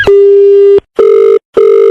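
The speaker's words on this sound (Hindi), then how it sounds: "फोन।" A telephone rings in a radio prank-call segment, three loud electronic tone bursts in steady rhythm with short gaps, alone with no talk.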